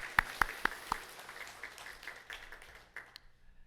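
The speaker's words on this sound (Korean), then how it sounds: "우리 먼저 하나님 앞에 영광의 박수 올려드리도록 하겠습니다." Scattered applause from a church congregation during a Sunday sermon: a few sharp, distinct claps in the first second, then thinner, softer clapping that fades out, heard from some distance in a reverberant room.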